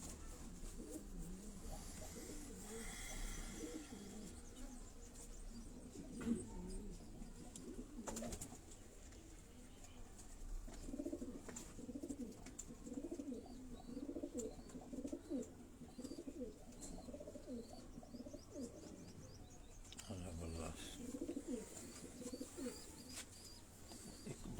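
Pigeons coo softly and repeatedly at a distance over faint background noise, with occasional chirps in between.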